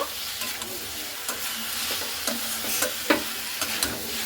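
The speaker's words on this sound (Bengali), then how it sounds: "ভেজে রাখা আলুগুলো দিয়েও কিন্তু খুব ভালো মতো করে নাড়াচাড়া করে নেব" A spoon scrapes and stirs fried potatoes into jackfruit curry in a pan, with repeated sharp scraping strokes over a soft continuous sizzle, close and alone without talk.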